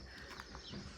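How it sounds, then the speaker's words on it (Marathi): Morning birdsong in a Konkan village, heard as faint, scattered calls and soft cooing against a quiet outdoor background. "पक्ष्यांचा किलबिलाट"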